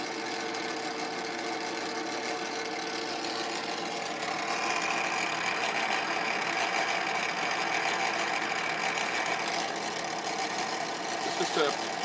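A drill or mill bit cutting 1 inch deep into a workpiece at a makerspace, giving a steady, loud machine whir and grinding with a brighter whine through the middle stretch, under a constant background drone.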